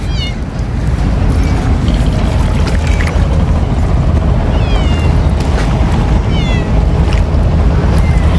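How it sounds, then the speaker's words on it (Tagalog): A cat on the Manila Bay baywalk along Roxas Boulevard gives a few short, high meows that rise out of a loud, steady rush of outdoor ambience and waterside noise in the early morning. "Uy, may pusa."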